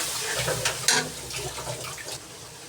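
A small splash of water pours into a pan of spices while cooking a soybean curry, a brief close trickle and splash lasting a couple of seconds.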